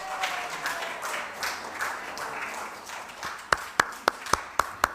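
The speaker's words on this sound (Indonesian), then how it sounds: "kita tepuk tangan buat ke-21 penerima sertifikat Kitab Hosea" Audience applause for certificate recipients at a church women's commission ceremony, a moderate patter of clapping that thins out, ending in a few loud, sharp individual claps spaced evenly apart.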